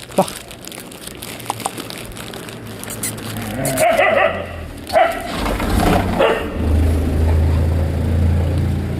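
Stray dogs in Kochi, India bark and whimper in a street setting, with sharp yips rising over steady background noise and occasional crinkling sounds, close to moderately near.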